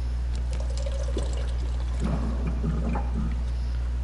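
Water pours in the video game Soma, a soft steady splashing trickle lasting about four seconds over a constant low hum.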